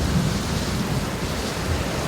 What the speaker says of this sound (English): There's a huge gust and all the rain